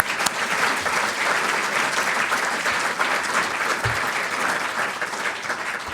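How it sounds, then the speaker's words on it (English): A room full of people at a charity fundraising morning mixer claps in sustained, dense applause, steady and loud throughout without a break. "So if you could just join me in a round of applause to them."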